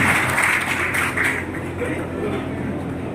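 A crowd at a community association meeting applauds a newly named official. Steady, moderately loud clapping carries on under hum and a murmur of voices.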